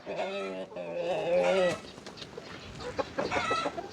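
Chickens cluck and squawk close by, a rooster's call rising over the flock, followed by scattered softer clucks and rustling.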